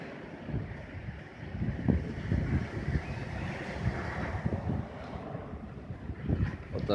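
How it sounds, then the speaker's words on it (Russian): Sea waves surge and wash along a windy shore while strong gusts buffet the microphone in a steady, loud roar with no voices. "какие волны тут красивые."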